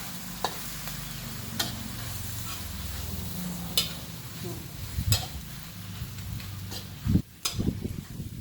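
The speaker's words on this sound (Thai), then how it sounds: "พัด กับข้าวง่ายๆ" A simple dish being stir-fried in a pan, with a steady sizzle under repeated spatula strokes and scraping, plus occasional sharp clinks against the pan at an uneven pace.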